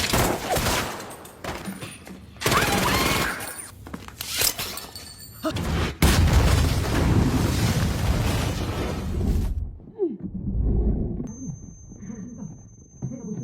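A loud, chaotic barrage of explosions from a bomb and rapid gunfire in a film, with crashing debris and smoke-filled room, fading to quieter rumbling near the end.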